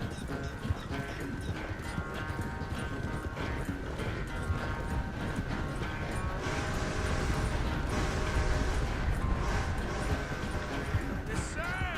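Horse hooves pound steadily in Red Dead Redemption 2, a continuous galloping clatter with rumbling noise beneath and occasional talk over the top.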